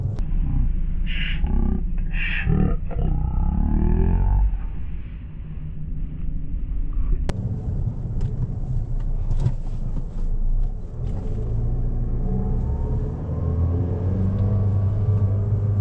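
A Dodge Dart's engine revs too high with only light throttle, a rising, droning hum heard from inside the car over steady road rumble.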